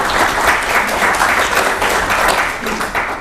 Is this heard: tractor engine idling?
no